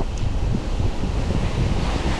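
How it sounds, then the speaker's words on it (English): A waterfall roars as a steady, broad wash of rushing water heard outdoors on a motorcycle ride, mixed with wind noise across the microphone and no talking. "Waterfall."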